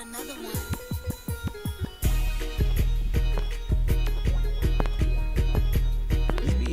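A hip-hop beat plays loud and full, with sparse plucked notes at first, then heavy sub-bass and punchy drums kick in and drive a steady rhythm.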